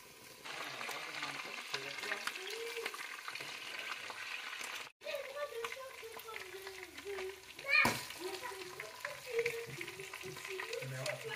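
Onions browning in oil in a pan while the sauce for rice is being made give a soft, steady sizzle, with a person speaking over it and a few brief clanks.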